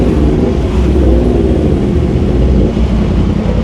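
A Yamaha R1 WGP motorcycle engine with a remapped ECU runs at low RPM in first gear, a loud, close, steady rumble that rises slightly and then eases back.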